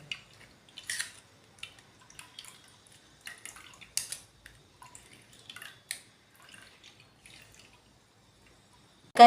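Juice drips through a strainer in sparse, irregular drips and small wet taps, one after another in a quiet room, faint and close, ending with a louder knock.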